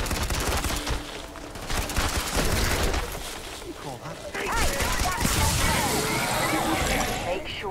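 Rapid machine gun bursts ring out in Starfield during a fight with small zombie creatures, dense sustained firing mixed with game effects and a person talking over it.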